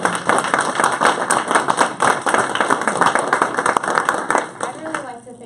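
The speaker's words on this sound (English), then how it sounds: "could we have a round of applause" A small crowd at a Town of Platteville event with the League of Women Voters claps steadily in a brisk, uneven patter, close and fairly loud, and tapers off at the end.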